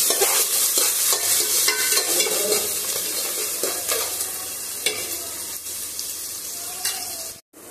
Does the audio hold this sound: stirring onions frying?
yes